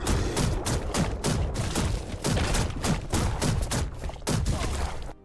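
Weapon fire in the top-down skyship shooter Black Skylands: dense, repeated bursts of gunshots with thumping impacts, loud and close, firing in steady volleys with brief pauses between.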